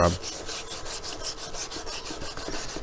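Plastic is sanded by hand with folded 280 grit wet and dry paper in a regular back-and-forth rhythm of soft rasping strokes, close and fairly quiet, with no speech.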